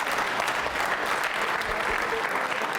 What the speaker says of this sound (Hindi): तालियां जोरों से बजाइए मुकेश जी के लिए जोरदार तरीके से।